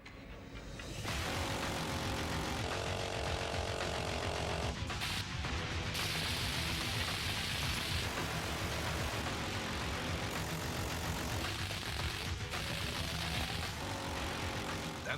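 A minigun with rotating multi-barrels fires at over 3,000 rounds per minute on a concrete wall in urban combat, making a loud, continuous roaring buzz that holds steady for about fourteen seconds with no talk.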